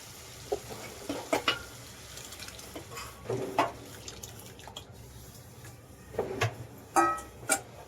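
Spinach dropped into a pan of roasted masala with a little water, followed by scattered wet sizzles and the scrape and clack of stirring, fairly quiet with short bursts.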